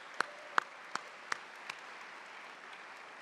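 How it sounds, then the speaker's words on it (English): At a university fall convocation ceremony, a handful of sharp, isolated claps ring out in a slow, evenly spaced series before fading into quiet room tone. "Let's give her a big round of applause."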